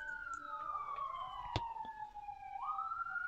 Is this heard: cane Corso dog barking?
no